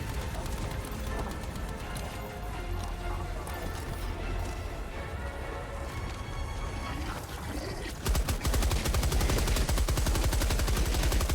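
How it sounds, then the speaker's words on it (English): A machine gun in Helldivers 2 firing fast, dense rapid bursts, loud and close; the rate of fire turns sharper and more distinct toward the end. "we just melt the overseers with this freaking machine gun"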